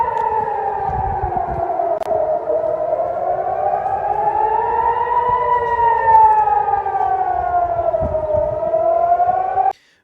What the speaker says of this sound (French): les sirènes d'alerte retentissent actuellement à Tel Aviv.